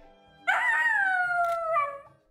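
A dog lets out one long, loud howl that starts abruptly and slowly falls in pitch, with a brief yip near the end, close and alone without any talk.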